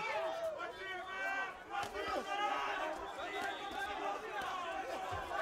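A vocal crowd on both sides of a boxing ring cheers and shouts continuously during a fight between Anas Hafiane and Batamazee Iddi, a dense roar of voices with distinct yells rising and falling throughout.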